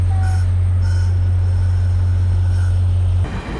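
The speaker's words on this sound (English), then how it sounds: "there goes the train that brought me here" Train pulling away after dropping a paddler in remote wilderness: steady low rumble with faint recurring high squeals, fairly loud and continuous before cutting off near the end.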